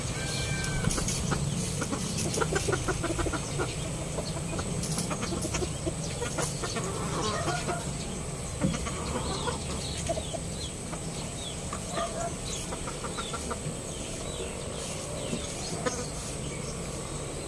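A 4-month-old chicken clucks now and then amid a dense outdoor backdrop of buzzing insects and other bird calls, the clucks mid-distance and partly masked by the steady ambient hum.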